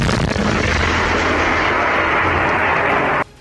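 Russian rocket fire striking targets in Mariupol during the war: a sustained, loud, dense roar of blasts and rumbling explosions running continuously for about three seconds, then cutting off abruptly.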